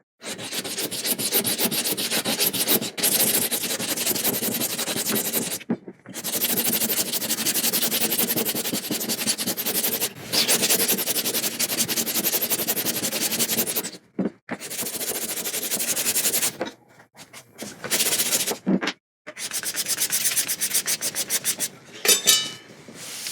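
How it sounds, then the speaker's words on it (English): A guitar side thicknessed by hand with hand tools: long continuous rasping, scraping strokes across wood, loud and close, broken by a few short pauses and quicker scratchy passes near the end, without talk. "So Thiago, I've just shown you how to thickness a side using hand tools"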